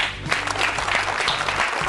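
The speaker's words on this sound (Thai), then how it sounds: "ปรบมือครับ" Audience applause at a live music request show, a dense, steady patter of many hands clapping for a couple of seconds.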